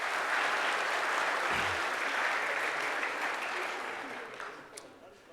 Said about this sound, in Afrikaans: Kom ons gee vir hulle 2 lekker hande klap.